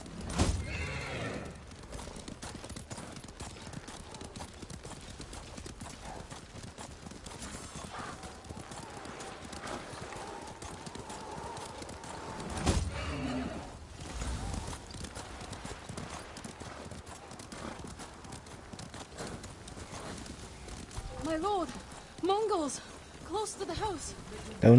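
Horse hooves clip-clopping and a neigh in the video game Ghost of Tsushima, with steady hoofbeats running throughout under talk, set against faint rain and game sounds.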